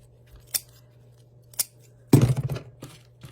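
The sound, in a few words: scissors cutting ribbon ends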